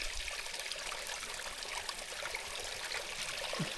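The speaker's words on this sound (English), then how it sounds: "talk about impromptu waterfalls." A small waterfall stream on the Grinnell Glacier hike in Glacier National Park gives a steady, fairly faint rushing trickle that continues without a break, with no one speaking.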